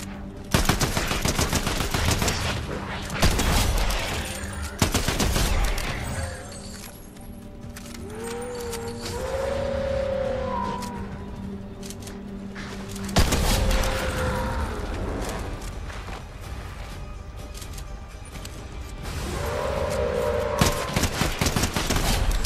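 Gunfire and shotgun blasts in the shooter game Vertical, loud dense bursts in clusters at the start, midway and near the end, separated by quieter stretches with faint tonal game sounds.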